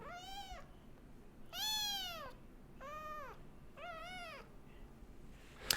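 A cat meows four times, loud and close, each call drawn out and rising then falling, with short pauses between.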